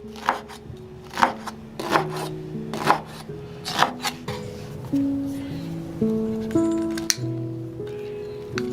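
A knife chops soaked, rinsed dried wood ear mushrooms on a cutting board in a home kitchen, about six crisp close strikes in a steady rhythm, followed by softer rubbing and scraping under background music.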